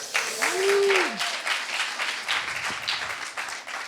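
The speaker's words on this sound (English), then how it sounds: "maybe a round of like Go Bears, a little applause" A university talk audience at the Newton Series claps briefly, a moderate burst of applause with a short vocal cheer near the start, then a softer patter of hands that carries to the end.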